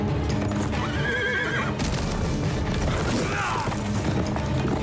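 A horse in the Game of Thrones video game neighs loudly twice amid game ambience, with hooves clip-clopping and mechanical rattles filling the background.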